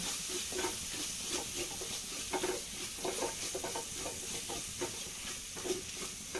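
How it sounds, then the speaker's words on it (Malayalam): A spice mixture being stirred in a hot pan, with a steady sizzle and hiss under repeated scraping strokes of a spoon, close and moderately loud, no talking. "നന്നായി ഒന്ന് മിക്സായി ഇളക്കി കൊടുക്കാം."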